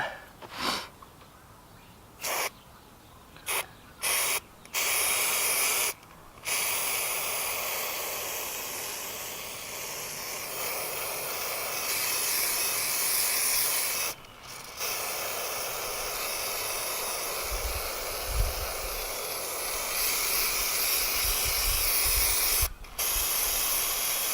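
Long steady hiss of an aerosol spray adhesive can, used for gluing boat carpet, nearly continuous with several brief pauses early on, loud and close, with faint handling noises beneath.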